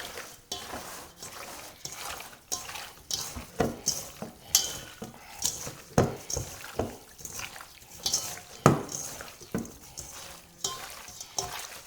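Deer or wild hog jerky marinade being mixed thoroughly in a bowl, rhythmic wet stirring and sloshing strokes repeating steadily, close but fairly quiet, with no speech.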